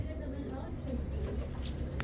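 Pigeons cooing at a pigeon seller's, low soft coos under ongoing speech close by, with a few higher chirps.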